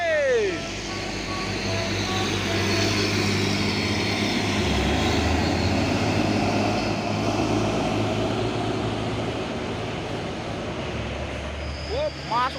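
Rapi Raja Perdana Inti economy-class bus on the Medan route pulling in at a Jambi roadside stop: a heavy diesel engine drones and rumbles close by under steady traffic noise, with brief tonal horn or beep sweeps at the start and end.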